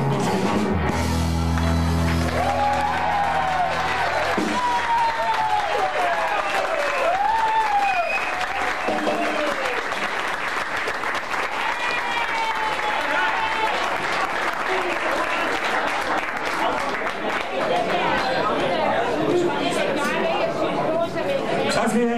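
A concert audience bursts into loud, sustained applause after a song, dense clapping mixed with cheers and whistles that carries on for over twenty seconds, with voices calling out through the crowd.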